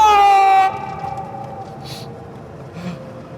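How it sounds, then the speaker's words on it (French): A single loud honk of a car horn blares for about half a second, then fades, followed by faint background noise and soft breathy sounds. "Il marche le klaxon?"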